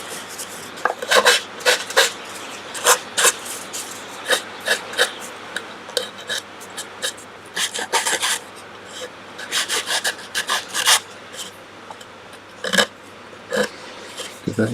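Light hand sanding of a wooden dovetail box with a small piece of sandpaper: close, irregular rasping strokes in short bursts and clusters, loud and scratchy, with brief pauses between passes.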